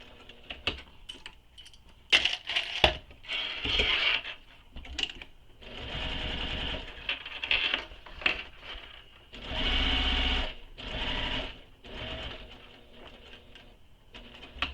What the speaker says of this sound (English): And sew this with the seam allowance given in the pattern.